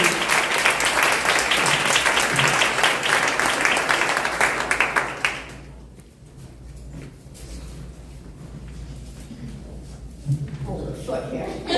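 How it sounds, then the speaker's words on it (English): Audience applause for a survivor who has just shared her story at a live-streamed event: dense, loud clapping for about five seconds, then a quieter room with scattered claps and murmuring, and a brief swell of clapping again near the end. "give her, Sarah, one more round of applause"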